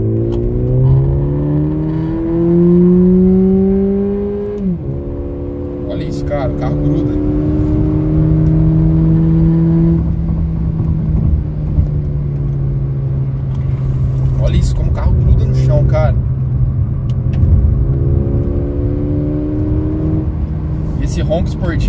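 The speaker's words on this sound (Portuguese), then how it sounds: "Esse ronco esportivo dele é muito legal" A sporty car engine revs up and shifts repeatedly via paddle shifters, its roar rising and dropping in pitch, loud and close, with a person talking in between.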